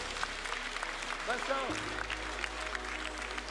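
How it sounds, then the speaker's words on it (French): Audience applause for the cattle breeders at a 2019 Salers breed competition: dense, steady clapping throughout, with a brief voice rising over it midway. "Je vais vous demander de les applaudir, s'il vous plaît."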